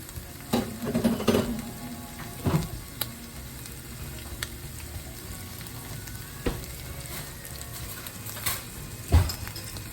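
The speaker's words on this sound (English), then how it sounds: "I'm going to put a little olive oil in the middle. And I'm going to add the ginger." Ginger sizzles and fries in olive oil in a pan, a steady crackling hiss with occasional stirring clatters, close and alone without talk.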